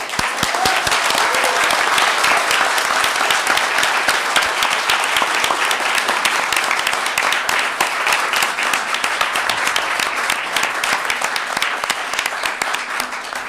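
Sustained, loud applause from a sizable audience at a school board meeting, a dense wash of clapping that continues without pause throughout.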